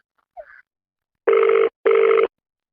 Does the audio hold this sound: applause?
no